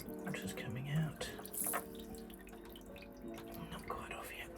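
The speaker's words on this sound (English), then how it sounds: "Water's coming out." Water trickles and splashes out of a sailboat's ailing engine part as a ring is loosened, with irregular drips and gurgles over a background hum and some clinking.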